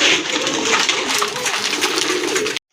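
A pair of big white Chuina pigeons cooing close by, a continuous throaty purring coo that fills the short moment before cutting off abruptly.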